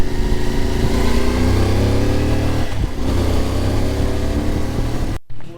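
A motorcycle rides through Phandar Valley in Gilgit Baltistan, its engine droning loud and close with steady wind roar, easing slightly midway before the sound cuts off abruptly near the end.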